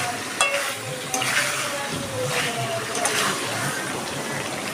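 Yogurt goes into a sizzling pan of chicken for Dhaka-style chicken tehari and is stirred, bringing loud steady frying with scraping stir strokes, close up, while a person talks now and then.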